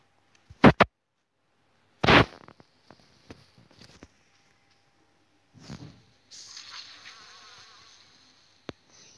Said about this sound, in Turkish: Sivrisinek yuvalarını patlatıyorum